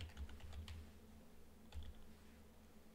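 Quiet, rapid clicking of a computer keyboard as commands are typed on a Windows Server 2022 machine, coming in short uneven bursts with a brief pause between them.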